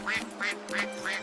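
A duck quacks four times in a brisk, evenly spaced series, clear and close with nothing else heard.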